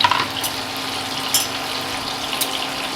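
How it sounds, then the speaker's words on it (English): A splash of starchy pasta water is poured into a pan of frying pasta with garlic, giving a steady hiss and sizzle with a few sharper spatters. "add a splash of pasta water to our pasta as well"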